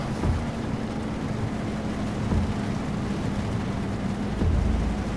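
A steady low truck engine drone with a constant hum under a wash of broadband rain and wind noise, continuous throughout, in Euro Truck Simulator 2.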